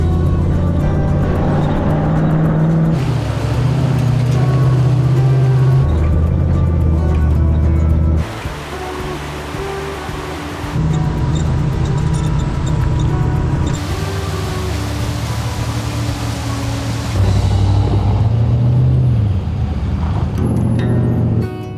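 An off-road vehicle grinds along a rough dirt mountain road on Colorado's Alpine Loop, its engine droning steadily while the body rumbles and rattles over bumps, with loud surges and brief lulls.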